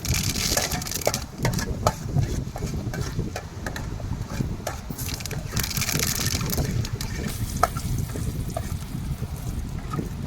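Mustard seeds crackle and pop in hot oil while seafood snail fry is made, a dense run of sharp close spatters and snaps over a steady sizzling hiss.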